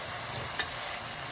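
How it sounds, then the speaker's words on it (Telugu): Fenugreek leaves frying in a pan for a curry, a soft continuous sizzle with a single brief tick of a utensil partway through, with no voices. "ఒక పచ్చి వాసన పోయి మగ్గే వరకు వేయించుకోవాలి"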